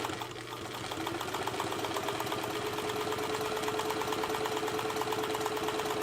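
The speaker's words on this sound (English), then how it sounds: "So this machine sews really nice and smooth" A Chandler (Bernina 950) industrial sewing machine stitches fabric at a fast, even rate. The rapid mechanical chatter runs smooth and steady close by, and no one speaks.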